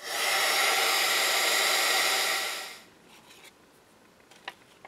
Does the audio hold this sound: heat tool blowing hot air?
yes